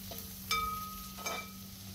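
Curry leaves and shallots sizzle in hot oil for a Kerala-style crab roast, with a steady fry and two distinct scraping stirs of a spoon in the pan, fairly close.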